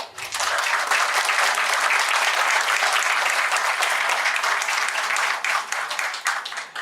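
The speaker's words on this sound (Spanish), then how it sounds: "Un fuerte aplauso para él." Sustained applause from a large audience, loud and dense, holding steady for several seconds before easing slightly near the end.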